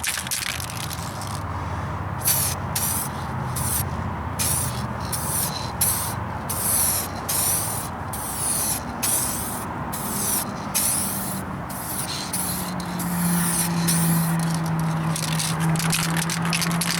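Spray paint hissing onto a vehicle's rocker panels in repeated short bursts with brief gaps between passes, close and steady, a lower rattling rumble beneath, with no one speaking.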